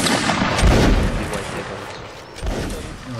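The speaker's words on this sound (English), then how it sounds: "Clear the way for the artillery." Artillery barrage from a Siege video game, heavy booms and gunfire rumbling densely throughout, loudest early then again near the end, with faint voices underneath.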